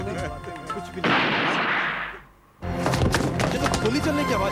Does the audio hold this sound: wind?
no